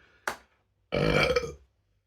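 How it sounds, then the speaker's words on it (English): Burps after a spicy Pepper X chicken tikka masala eating challenge: a short, sharp belch, a pause, then a longer, deep, rumbling burp, both close and loud in a quiet room. "Excuse the burps, excuse the hiccups"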